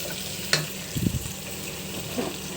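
Egg biryani masala with tomato paste is stirred and fried in a pan: a steady sizzle with a few distinct scraping strokes of the spoon, one sharp and two softer, close and alone.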